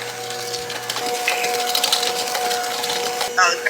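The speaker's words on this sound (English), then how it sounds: "And you're going to mix that with the mixer." An electric mixer beats Christmas cookie dough in a home kitchen with a steady, close motor whine and rattling beaters, while voices talk in the background.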